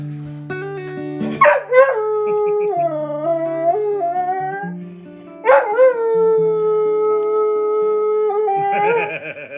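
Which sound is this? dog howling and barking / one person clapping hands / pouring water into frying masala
dog howling and barking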